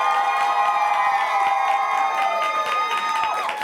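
Studio audience at a South African talk show cheers and whoops loudly for a government spokesperson guest, a dense, sustained crowd roar with shouts throughout.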